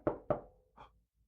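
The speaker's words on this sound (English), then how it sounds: "Hey, Paul, can you get the door" Two sharp, close knocks on a door in quick succession, followed by a softer third thud, heard alone with no talk.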